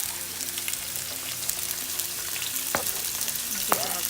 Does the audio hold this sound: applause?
no